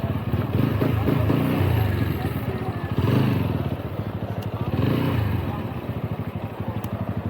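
Motorcycle engine revving and idling at a beach, a loud, steady rumble with repeated swells in throttle, voices faintly under the engine noise.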